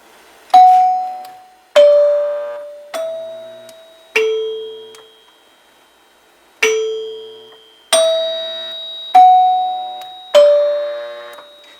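Chiming tone bars of a 1947 NuTone K40 8-note door chime ring out a slow melody of eight clear, bell-like strikes, each ringing and fading before the next, loud and close with no talking.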